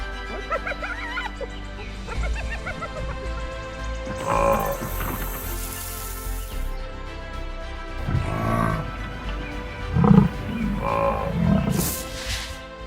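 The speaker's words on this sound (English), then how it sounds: "the lion pride heads back, breathing heavily" A lion pride on the African savanna at twilight lets out deep, rumbling roars and heavy breaths in several bursts, close and fairly loud over a steady background.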